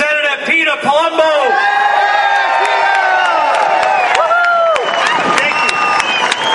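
A crowd at a political gathering cheers, whoops and applauds loudly and continuously for Representative Peter Palumbo of Cranston, with shouting voices and whistle-like cries over the steady clapping.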